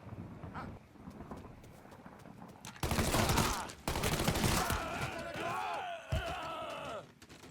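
Gunfire in the video game Mafia 3 breaks out as loud rapid bursts and a sustained barrage amid battle noise, with shouted voices and other game sounds mixed in.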